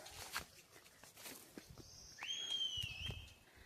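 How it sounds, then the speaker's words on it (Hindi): A person whistles somewhere in a hillside forest where goats graze, a rising sustained whistle from some distance, heard over light footsteps and rustling. "ताई जी वहाँ मार रहे सीटी"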